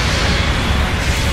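A loud, dense burst of explosive noise filling the whole clip, a bazooka shot exploding in Gundam Battle Operation 2, rumbling with heavy low end.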